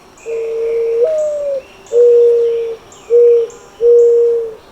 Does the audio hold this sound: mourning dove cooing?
yes